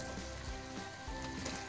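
Mutton bones frying with whole spices over a high flame, a steady close sizzle and crackle of hot oil with faint pops, continuous and fairly soft.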